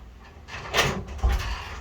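A mechanical latch clicks and the door of a 1968 Plymouth Barracuda swings open, with two short knocks about half a second apart, fairly close and alone.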